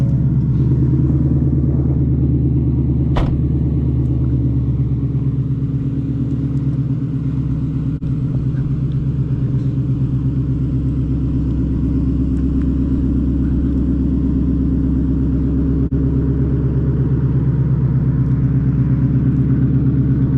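A 2022 Ford Mustang GT running, its engine holding a deep, steady idle rumble up close and loud throughout, with a sharp click near the start.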